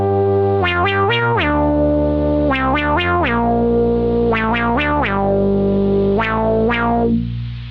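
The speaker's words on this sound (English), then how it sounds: "Let me bypass the effect here so you hear purely the Moog sound." A Minimoog synthesizer with its effect bypassed plays a loud, buzzy acid-style bass line, with sustained tones and repeated clusters of sharp plucky note attacks, alone without voices.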